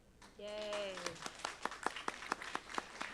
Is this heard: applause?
yes